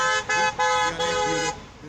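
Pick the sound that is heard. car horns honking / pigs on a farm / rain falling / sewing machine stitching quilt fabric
car horns honking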